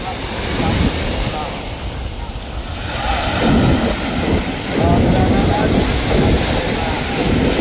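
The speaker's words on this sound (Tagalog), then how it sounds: "Lalaki na ng mga alon, oh." Ocean waves wash and surge during a traditional boat race at sea, a broad roaring hiss mixed with wind buffeting the microphone, swelling louder midway and staying strong to the end.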